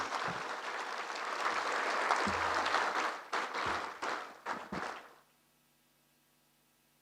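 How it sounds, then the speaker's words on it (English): Seminar audience at a closing ceremony applauds a speaker: dense clapping for about three seconds, then thinning into scattered, fading claps before falling silent around five seconds. "Let us give her a better hand of applause."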